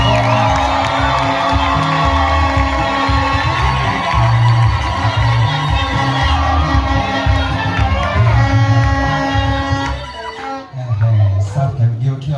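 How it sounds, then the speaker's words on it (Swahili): Guests at an engagement ceremony cheer and ululate in a loud, dense crowd roar with high trilling calls, fading briefly near the end before voices rise again. "Shangwe na vigelegele."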